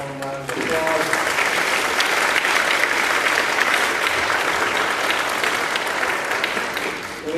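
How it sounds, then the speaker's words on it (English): An audience at a school board recognition night applauds a middle school orchestra octet: a brief voice, then a sustained wash of clapping from many hands that fills the room at steady strength. "let's give them another really warm round of applause"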